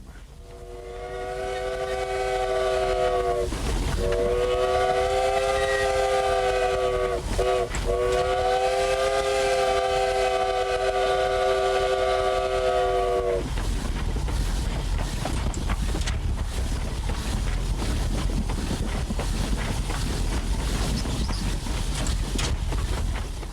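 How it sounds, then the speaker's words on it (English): A Sumter Valley Railroad train in Oregon sounds its whistle in long, loud tonal blasts with two short breaks, then the whistle stops and a steady, close rumble of the running train continues alone. "Years later, out of the shadows of memory, the Sumter Valley Railroad came to life again."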